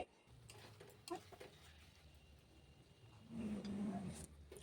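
Poppy seed paste with green chillies being stirred in a pan for a Bengali jhinge aloo posto, with soft scrapes and light clinks of the spatula, quiet at first and then louder near the end.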